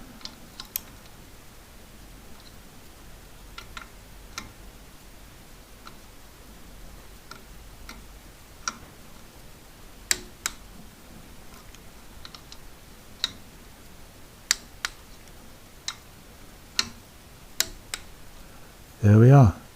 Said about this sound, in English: Torque it down.